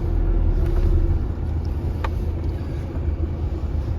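A 4WD vehicle grinds slowly through rough Northern Territory outback bush, its tyre pressed against a wall for grip, giving a loud, steady low engine rumble with brief knocks and scrapes throughout.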